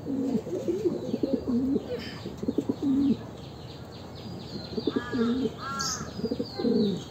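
Young racing pigeons cooing close by in a loft, repeated soft throaty coos in short bursts with a few chirps and a brief wing flutter, quiet and without speech.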